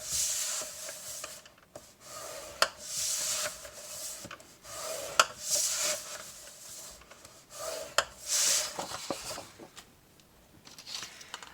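Paper is scored for a stamped gift box, heard as repeated close rubbing scrapes in short strokes with a few sharp taps and clicks between them, fairly quiet, with no talking.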